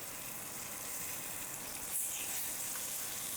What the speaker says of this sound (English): Try to evenly fry it